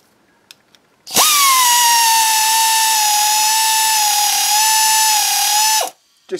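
A Lidl pneumatic nibbler cutting metal runs in one continuous loud, high-pitched whine for about five seconds, starting and stopping abruptly, with a couple of faint clicks before it.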